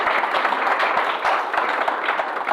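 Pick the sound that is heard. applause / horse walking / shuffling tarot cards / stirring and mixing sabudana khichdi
applause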